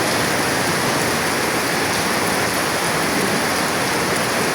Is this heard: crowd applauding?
no